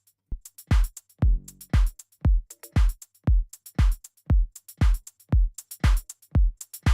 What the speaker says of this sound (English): I like the bongo or the cowbell.